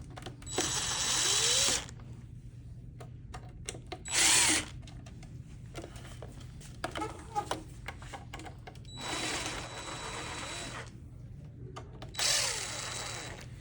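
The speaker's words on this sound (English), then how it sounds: "So we're gonna go ahead and get those screws taken out." A power drill backs small screws out of a garment steamer arm in four whirring bursts, each a second or two long, with quiet clicks and handling noises between them, close by and without speech.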